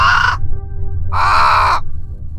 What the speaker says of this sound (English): As though called, a crow flutters down onto her arm.